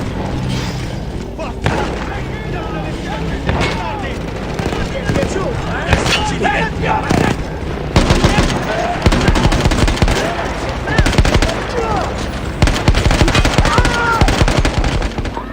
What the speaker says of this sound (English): I could see an anti-aircraft gun over the next ridge that was taking out our planes